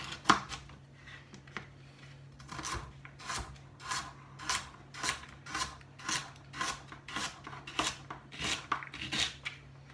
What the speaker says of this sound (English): So that's all the vegetables prepared, chopped up